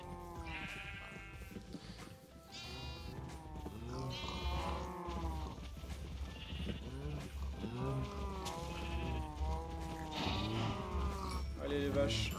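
Cows in the Minecraft video game low repeatedly in a rhythmic chorus of overlapping moos and bleats, steady and continuous across the scene with no talking.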